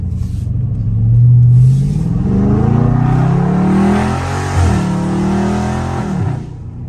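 A Dodge Charger Scat Pack heard from inside as the engine rises through the revs, drops on downshifts with a couple of sharp blips, and keeps a deep rumble throughout.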